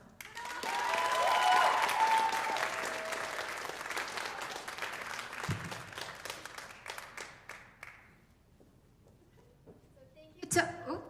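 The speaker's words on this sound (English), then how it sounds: "let's give one last round of applause before we all take our bows" Audience applause at a school TED-Ed event, a full round of clapping that peaks early, then thins into scattered claps and fades, with a brief louder sound near the end.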